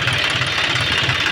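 A John Deere 5042D tractor's 44 HP engine runs steadily near the listener, a throbbing low rumble with a dense, even texture and no talk over it.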